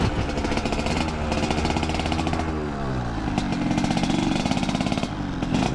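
A Yamaha RX King two-stroke motorcycle engine revving loudly up close, its rapid buzzing exhaust rising and falling in pitch across several throttle blips.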